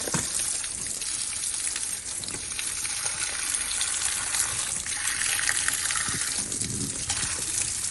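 Water from a hose sprays steadily and loudly onto a drainage plug during new drainage work, a continuous rushing hiss lasting throughout with no talk.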